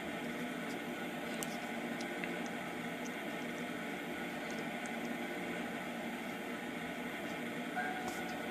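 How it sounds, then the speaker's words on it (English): Sky Tower tram pulling out of its station, a steady rumbling rolling noise with faint squeaks and clicks, continuous and fairly even throughout. "The train is leaving the station."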